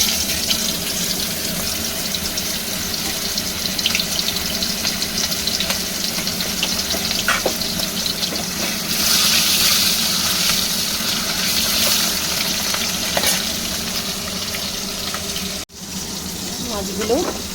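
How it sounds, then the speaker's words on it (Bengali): Boal fish fries in hot oil with a loud, continuous, close sizzling hiss that holds steady throughout, briefly dipping once near the end. "তেলটা বেশ গরম হয়ে গেছে, তাই আমি মাছটা তেলের মধ্যে ছেড়ে দিলাম"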